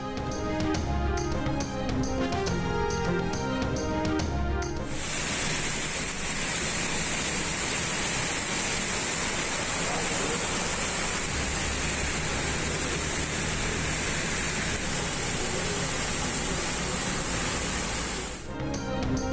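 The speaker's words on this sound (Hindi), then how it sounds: "कराची के मुख्तलिफ इलाकों में बारिश, कहीं हल्की कहीं तेज़ बारिश के बाद निज़ाम ज़िंदगी मुतासिर।" Heavy rain falling across Karachi streets, a steady loud broadband hiss of downpour holding evenly for most of the stretch after a brief different opening.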